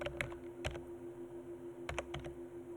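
Clusters of keyboard keystrokes typed on a computer keyboard while entering an Excel data validation formula, a few quick clicks near the start and another burst near the end, close and clear over low room hum.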